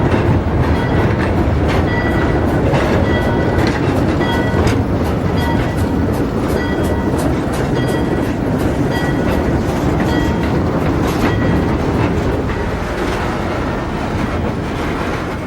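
An Alco switcher locomotive hauls a freight train slowly along street tracks in Brooklyn, a loud continuous rumble with rhythmic wheel clicks and a faint squeal, close by, no talk.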